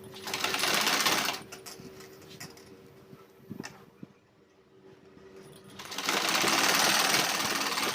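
A sewing machine stitches a kurti neckline in short runs, its rapid mechanical whir loud at the start and end with a quieter stretch of faint handling clicks between.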